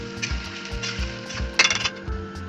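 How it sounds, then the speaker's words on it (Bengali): Chicken is stirred into tempering spices in a pan while cooking a tribal-style village chicken curry, giving repeated rhythmic scraping and clinking of a metal spoon against the pan, close and steady, with a brief louder rattle. "ভালো করে নাড়াচাড়া করে ফোড়নের সাথে মিশিয়ে দেব।"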